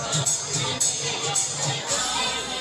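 Crowd of devotees packed into a temple in Tuljapur on Mahashivratri, a dense, steady murmur of many voices with a few louder bursts that sounds moderately close.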